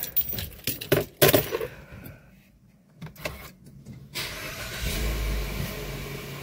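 A car with a weak battery cranks with sharp clicks and bursts, pauses, then catches and settles into a steady idle rumble close by.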